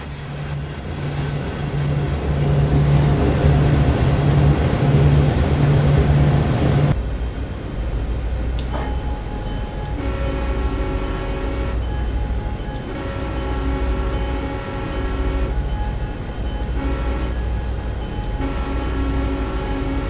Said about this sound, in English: we got a pretty good sized train of empties